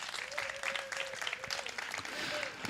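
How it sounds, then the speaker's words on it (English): Applause from a congregation at a Sunday spiritual service, steady clapping from a moderate crowd that keeps going without a break, with some voices mixed in. "So we once again give them a round of applause for being our practitioners."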